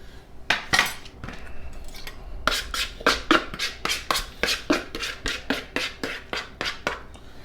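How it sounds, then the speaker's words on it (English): Pumpkin seeds being roasted off a smoker are spread across metal cooking sheets with a utensil, making a rapid, rhythmic run of close metallic scrapes and taps that grows steadier and denser, with no talking. "here's the cooking sheets. Spread them all out."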